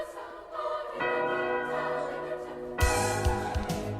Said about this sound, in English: It transitions seamlessly using a loud and dramatic church bell ringing.